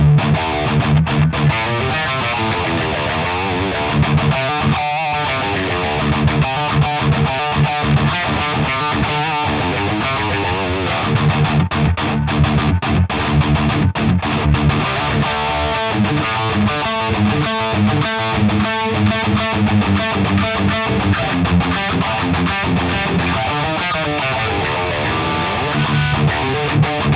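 Electric guitar played through a Hotone Ampero Mini distortion preset, a loud, sustained, heavily saturated riff with chugging rhythmic chords filling the whole passage.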